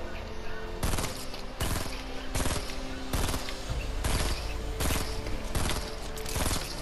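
Fortnite gunfire booms out in heavy, evenly spaced blasts roughly every half second, loud and close, repeating steadily through the clip without clear talk.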